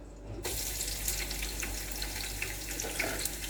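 Onion dropped into heated oil with a pinch of salt, giving a steady, dense hiss that begins abruptly after a brief quiet moment and continues evenly at close range, with no talk.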